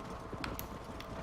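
Horse hooves clip-clop in Red Dead Redemption while breaking broncos, a quick, quiet run of light hoof knocks in steady rhythm over a faint game background.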